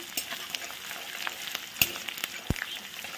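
Dried red chillies stirred in hot oil in a frying pan, giving a soft continuous sizzle broken by a few sharp scrapes and knocks of the spoon against the pan.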